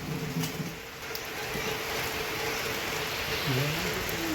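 Steady rain hisses throughout, with faint pattering drops and occasional soft bird calls in the background.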